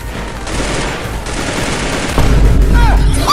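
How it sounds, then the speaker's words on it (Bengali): Rapid automatic gunfire in the battle game Free Fire rattles loudly and continuously, growing heavier with deep booming bursts near the end. "চল চালা দেখি গুলি"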